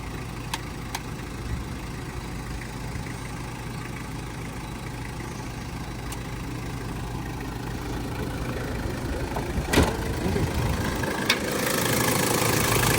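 1998 Toyota Hilux Surf intercooled turbo diesel engine idling, a steady low rumble close by with a few faint clicks and rising background noise near the end.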